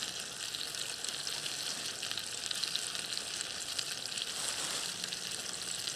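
Frozen peas tipped into a hot pan, giving a steady, loud sizzle and hiss of frying that holds evenly throughout with a slight surge near the end, with no voices.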